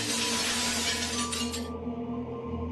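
Bus window glass struck by a thrown stone gives a sharp, bright crack and shatter-like crash. It rings loud for under two seconds and then cuts off into a low background hum.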